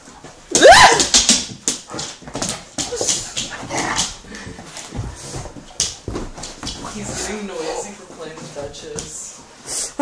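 A playful dog whimpers, yips and gives short squeaky cries amid a rough-and-tumble doggy pile with another dog, loud bursts early then scattered smaller yelps, mixed with scuffling and people talking nearby.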